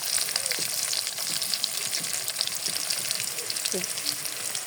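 Chopped onions with cinnamon and cardamom sizzle steadily in a pan for a rooster curry, a continuous faint hiss with occasional soft stirring clinks.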